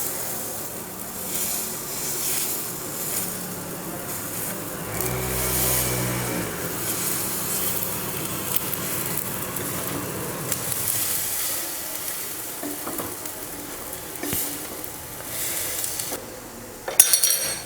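Paniyaram cook in a paniyaram pan while being turned, giving a low, steady sizzle. Scattered small metal clinks come through, and a louder clatter of utensils lands near the end.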